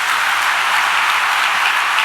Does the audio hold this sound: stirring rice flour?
no